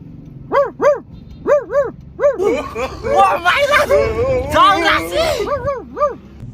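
A dog barks in rhythmic pairs of yips and howl-like barks, close and loud, with people talking and laughing over a stretch of it before the barking returns alone.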